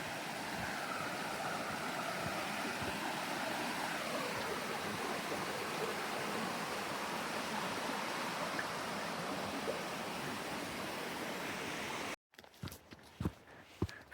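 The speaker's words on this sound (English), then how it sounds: "With the water rushing." Creek water rushes steadily along a forest trail at Dockery Lake near Suches, Georgia, a loud continuous broadband flow that cuts off abruptly near the end, leaving faint scattered ambient sounds.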